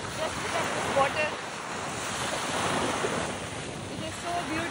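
Ocean waves wash onto a Maldives beach with steady wind buffeting the microphone, a continuous broad rushing surf close by, rising and easing slightly, with no talk.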